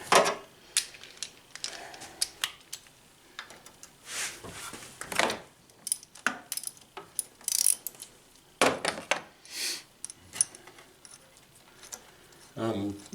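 A ratchet backs out a 13 mm bolt on a Chevy 3100 V6 during a head gasket job, making quiet, close, intermittent bursts of clicks and metallic handling noises, with a little talk in between.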